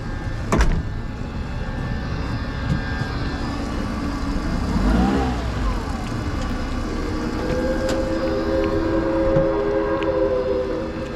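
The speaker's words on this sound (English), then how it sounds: "Comes the Knoxville train, man. Three Rivers Rambler." The Three Rivers Rambler tourist train passes near Knoxville, heard as a steady rumble with a sharp horn-like blast early and a rising tonal whine midway, continuous and fairly loud.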